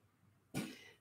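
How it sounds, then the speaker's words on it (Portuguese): A single sharp cough bursts out after a stretch of near silence, close and abrupt, then trails off quickly. "A fumaça que ela inalou provoca mais tosse, correto?"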